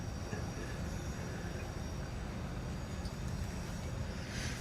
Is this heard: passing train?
yes